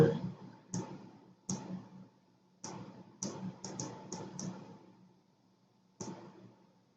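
Computer mouse and keyboard clicks during drawing-software work come in about ten crisp, separate taps spread unevenly across the stretch, close and fairly quiet, with a low hum and a faint voice in between.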